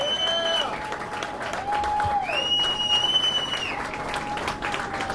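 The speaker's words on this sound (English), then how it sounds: "Another round of applause." Applause and cheering from a crowd at a Toyota Series bass fishing tournament weigh-in, greeting the champion; steady clapping throughout with voices and whoops rising over it.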